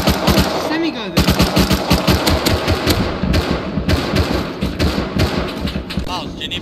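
Rapid semi-automatic rifle shots in the survival game Rust crack out in dense bursts close by, with brief pauses between volleys and continuous firing to the end.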